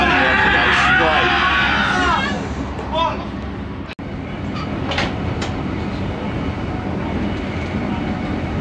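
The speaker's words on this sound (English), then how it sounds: "Greetings from the 2001 train back to Peterborough." Inside a crowded passenger train heading from York to Peterborough, with a steady rumbling roar and rail clatter, with passenger chatter early on and a sudden brief dropout midway.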